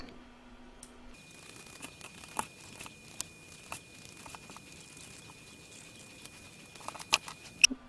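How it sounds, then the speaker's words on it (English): Scissors trim loose threads and cut embroidered fabric free from a hoop, a sparse series of quiet snips and small crisp clicks with soft fabric rustle, faint and close, growing busier toward the end. "trim up these threadies, and cut it out of the hoop"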